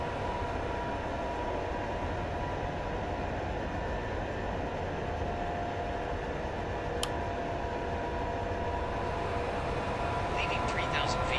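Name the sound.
WestJet Boeing 787-9 taking off from Frankfurt runway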